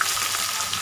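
Sliced onions hitting hot oil with bay leaf and whole spices in a pan, a brief, dense, even hiss of frying heard up close with no voices.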